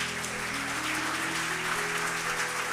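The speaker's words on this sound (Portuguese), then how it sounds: "Você pode aplaudir a Jesus?" Congregation clapping during a church service, a steady wash of applause throughout with a faint sustained organ or keyboard tone underneath.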